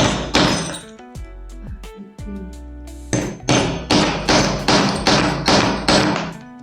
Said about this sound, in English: Then I place my punch on the leather. Then I use my hammer on it.